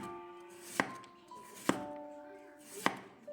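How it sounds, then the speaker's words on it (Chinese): A knife slices a peeled sweet potato into thin pieces on a cutting board, with three sharp, separate chops spaced about a second apart over a quiet tonal background. "再改刀切成片，尽量切得稍微的薄一点"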